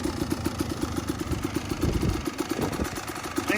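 Husqvarna WR250 dirt bike with a Rekluse clutch idling, a steady rapid single-cylinder putter with a metallic clatter, close and even throughout.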